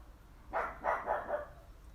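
A small, cross-sounding dog barks a few times in a quick burst, moderately distant, in an otherwise quiet setting.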